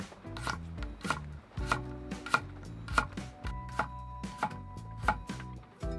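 A chef knife chops a firm potato on a cutting board in steady, rhythmic strikes, each cut a crisp, close knock on the board, with no talking.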